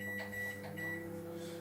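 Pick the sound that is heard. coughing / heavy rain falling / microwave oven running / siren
microwave oven running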